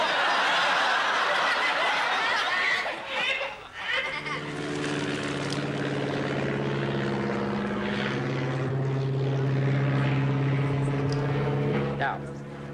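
A propeller airplane flies overhead, its steady droning hum building and holding loud and close after a few seconds of rustling and faint voices.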